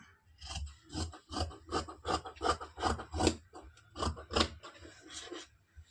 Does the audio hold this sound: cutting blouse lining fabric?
yes